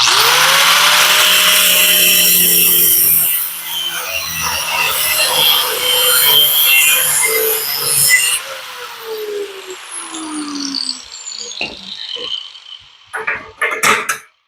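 A power tool grinds loudly through an old chain laid over a sacrificial bar, throwing sparks, for the Manco Dingo upgrade from a 5hp Briggs; a high harsh whine winds down midway, followed by lighter scraping and clanks.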